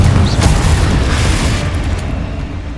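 Loud Confringo blasting-spell explosion in the Hogwarts Legacy video game, a close, powerful boom that rolls on as a dense rumbling roar and slowly fades.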